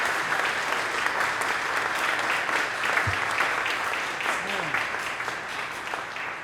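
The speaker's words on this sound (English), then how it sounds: "A big applause for Mawaya Bomani." An awards announcement crowd gives steady, dense applause for a winner, a continuous roar of many hands clapping at even loudness, with a brief low thump partway through.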